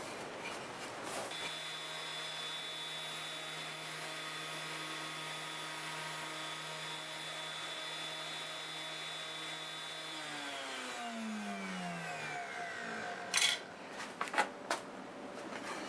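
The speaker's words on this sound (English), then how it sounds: "here's the board that we just sent through the planer" A wood planer finishes a final pass on a board with a loud, steady mechanical drone and whine. It then spins down, its pitch sliding lower as it slows to a stop, followed by a few close knocks.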